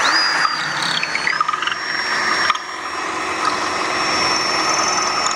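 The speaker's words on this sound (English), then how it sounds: "So I drill a hole" A power drill bores a hole into concrete for a door anchor, giving a steady, close motor whine with gritty grinding underneath that runs continuously, dipping briefly midway before resuming at an even level.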